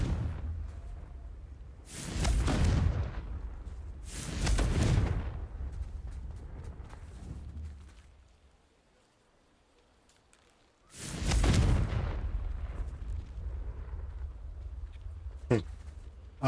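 Confringo fire spell blasts in Hogwarts Legacy: three loud whooshing booms spaced several seconds apart, each trailing into a rumbling decay, with a person talking between them.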